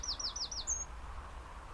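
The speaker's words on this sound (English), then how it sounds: "It's a lovely big lake, and it is full of bird life." Small birds call at a big lake, giving four quick rising chirps in a row and then a single higher note, fairly clear over a low background hum.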